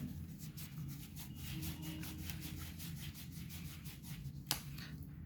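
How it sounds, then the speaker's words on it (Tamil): A cloth is rubbed hard back and forth over brass to polish it with Brasso, giving a steady, close scrubbing sound that runs without pause, with one brief sharp knock near the end. "இந்த மாதிரி ஒரு துணியை எடுத்துகிட்டு நல்லா இப்படி தேய்ச்சிங்கன்னு வச்சுக்கோங்களேன்"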